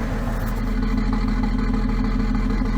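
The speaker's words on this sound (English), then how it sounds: "I'll put the mic near the exhaust and then near the intake or engine." A high-mileage BMW X5 diesel engine idles with a fresh fuel filter, recorded near the exhaust: a steady, loud low rumble with an even pulsing beat and a slight irregular miss, no voices.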